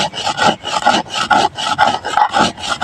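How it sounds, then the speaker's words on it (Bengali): Pickle spices and ingredients being ground very fine by hand, village style, in a steady rhythm of close, loud rasping strokes, roughly two or three per second, with no voices. "আমি এগুলো একদম মিহি করে বেটে নেব"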